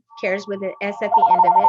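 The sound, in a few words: mobile phone ringing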